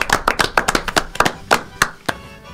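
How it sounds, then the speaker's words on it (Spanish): A few people clap at a contest-winners announcement, sparse uneven claps close by with gaps between them, fading after about two seconds. "Los aplaudimos a todos ellos"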